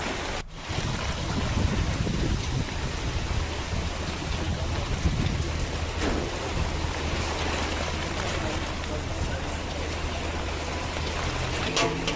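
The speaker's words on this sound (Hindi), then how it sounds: "तेज आंधी के साथ यहां भी झमाझम बारिश हुई है।" Heavy downpour lashing during a strong storm in Tonk, Rajasthan, a dense continuous roar of rain and wind that stays loud and steady throughout, with no voices.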